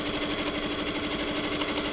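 Sewing machine stitching a tailored jacket's chest pocket runs at a steady, rapid mechanical rhythm, close and continuous, with no speech.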